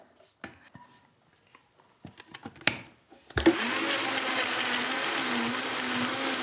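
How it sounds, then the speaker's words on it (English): Some quiet handling sounds and light clatter, then a loud blender kicks in puréeing roasted vegetables, whirring steadily at full power until the end. "And I'm just going to whiz them all up in my blender."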